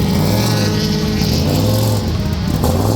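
IMSA LMP prototype race cars roar past at close range at Road Atlanta, a steady loud engine drone with deep rumbling tones and no talking.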